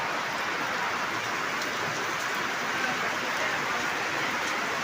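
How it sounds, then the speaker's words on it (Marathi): Heavy rain pours down steadily in a dense, unbroken hiss that stays loud and even throughout, with no pauses and no voices. "घरातून निघता निघता आला जोराचा पाऊस"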